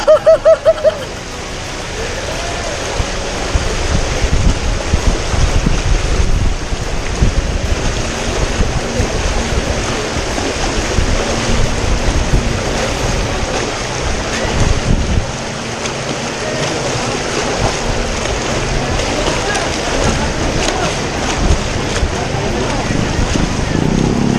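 Deep floodwater left by Typhoon Ulysses, heard as continuous sloshing and churning water buffeted by heavy wind noise, with people talking over it throughout.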